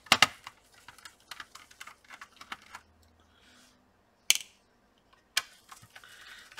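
Small screws being taken out of the underside of an HP 2000 laptop: a close, quiet run of irregular clicks and taps, with a couple of sharper knocks after brief pauses and no talking.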